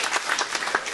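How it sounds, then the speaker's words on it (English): Applause at a Queen's Diamond Jubilee gathering held in a mosque in London, a brief burst of scattered clapping from a crowd. "Really big round of applause for Chaudhry Siddique Sahab."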